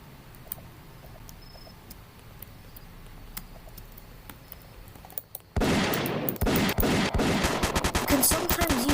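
Gunfire in the video game Cult of the Cryptids breaks out suddenly partway through after a quiet stretch with scattered clicks, then continues as loud, dense shooting to the end.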